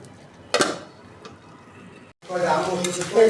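Potatoes are stir-fried for aloo bhaji, with a sharp scrape of a spatula followed by a busy, crackling sizzle in the pan, close and fairly loud.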